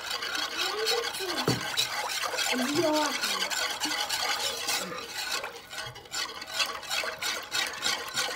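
A spoon stirring a honey mixture in a glass, with close, repeated scraping and clinking strokes under a woman's speech.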